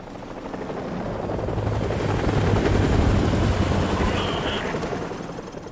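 An enemy helicopter in Call of Duty Modern Warfare Remastered gives off a loud, steady rotor thrum that swells to a peak and eases off slightly, with no voice over it.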